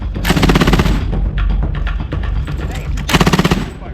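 An M240B machine gun, apparently in an airsoft game, fires loud close bursts of rapid rounds, with a brief break between them and continuous rattling throughout.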